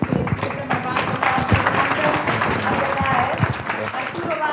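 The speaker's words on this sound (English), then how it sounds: "Please. A round of applause." Audience applause for panelists at a business symposium session, dense steady clapping from a crowd throughout, with a voice speaking over it.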